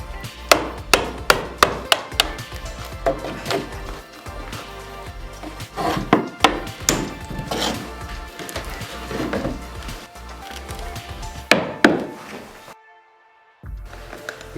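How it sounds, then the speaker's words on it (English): Rapid metallic hammer blows on a chisel, followed by irregular knocks and scraping as a wooden skirting board is worked loose from a wall, close and fairly loud. "using the chisel and hammer we form a big enough gap so that we can see where the nail"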